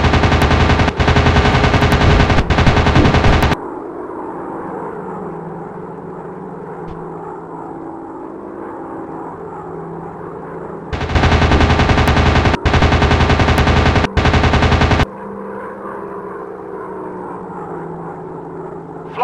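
Machine gun bursts from a WW2 fighter plane in a dogfight video game, two long loud rattling volleys separated by a stretch of steady propeller engine drone.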